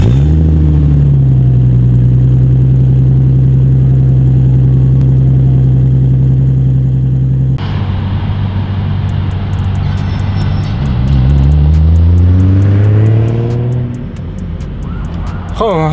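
Engine of a Mazda car, a tuning project due for an ECU Masters unit, rumbling steadily at idle for several seconds, then rising and falling through a couple of revs, loud and close with no talk.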